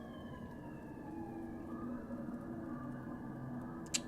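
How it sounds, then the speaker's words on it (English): An ambulance siren wails faintly in the distance, its tone slowly sliding as it passes, with a low steady background hum and a brief knock at the end. "Sorry if you can hear the ambulance in the background."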